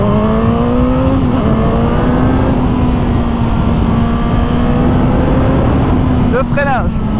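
2021 Suzuki GSX-S1000 motorcycle accelerating hard on the road, a loud, sustained engine drone with rising pitch under heavy wind rush, with a brief burst of shifting tones near the end.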